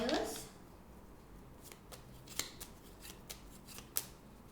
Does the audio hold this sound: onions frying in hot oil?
no